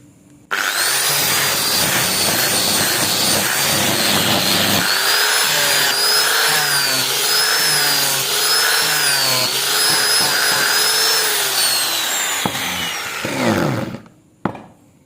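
A power sander fitted with a rubber sanding pad whirs loudly and steadily for over ten seconds, its pitch wavering as it is worked back and forth, then winds down.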